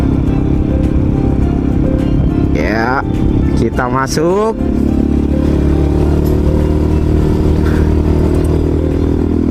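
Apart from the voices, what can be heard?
motorcycle riding on a Malaysian toll road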